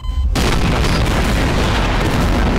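A loud, sustained bomb blast in Garry's Mod erupts after a brief quiet moment, a dense rumbling explosion that fills the clip with booming low-end roar.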